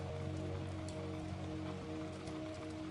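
Steady rain falling around an old oak treehouse by a lake, a dense continuous patter with scattered drops and a low sustained hum underneath, no talking.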